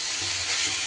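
Two green chillies sizzle in hot oil in a pan as they are stirred, giving a steady, close, broadband hiss with no voices over it.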